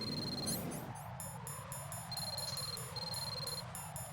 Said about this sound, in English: I think Raiden's cell phone is ringing